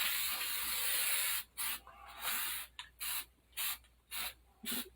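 Cheap airbrush spraying paint, a long soft hiss up close that then breaks into a series of short spurts with quiet gaps between them.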